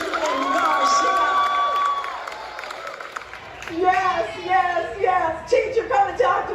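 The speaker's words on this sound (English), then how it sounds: "One more round of applause for Julian Garcia." Festival audience at a Palm Springs music and comedy event cheers and claps for a performer, swelling into mixed shouts and applause after a stretch of sustained tones and voices.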